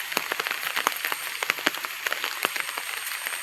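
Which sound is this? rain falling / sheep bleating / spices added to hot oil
rain falling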